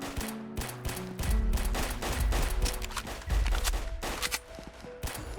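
Rapid automatic gunfire in the Roblox zombie game The Breakout, with dense overlapping bursts and heavy low booms as guns fire on advancing zombies, loud and continuous throughout.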